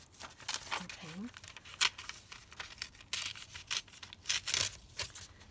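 Scissors snip through paper in a scrapbooking session, a series of short, crisp cuts and soft rustles spread across several seconds, quiet and close, with a brief murmur of speech.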